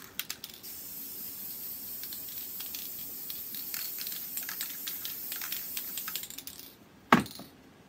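Workable fixative sprayed from an aerosol can over charcoal artwork, a steady close hiss lasting several seconds, ending with a sharp clack.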